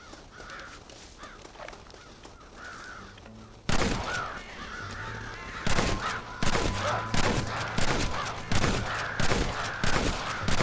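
Crows caw repeatedly in Red Dead Redemption while a burst of rapid gunshots breaks out and keeps cracking in sharp, loud volleys amid the continuing caws.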